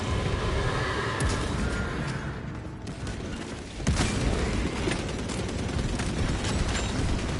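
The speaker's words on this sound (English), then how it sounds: "Those cannons are the Imperium's wrath made manifest." Cannons fire in the Space Marine 2 video game, a dense, loud barrage of booming blasts and rumbling explosions that runs continuously, with a sharp fresh volley partway through.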